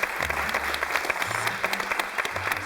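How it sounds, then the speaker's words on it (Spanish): An audience applauds after a university theatre show, with steady, dense clapping throughout and no speech over it. "otro gran aplauso para todos nosotros."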